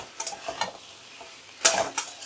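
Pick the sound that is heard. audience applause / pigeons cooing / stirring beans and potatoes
stirring beans and potatoes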